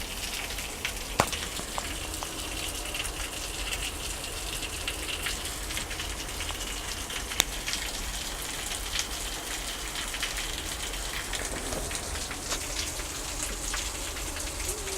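A heavy rainstorm pours down onto flooded streets, a dense, steady hiss of rain on surfaces with occasional sharper drips and splashes, continuous and fairly loud with no voices.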